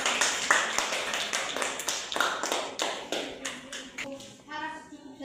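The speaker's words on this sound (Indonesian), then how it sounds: "tepuk tangan dulu kepada" Students clap after a group's class presentation, scattered hand claps tapping out irregularly at close range while a voice and other talk carry over them, thinning out toward the end.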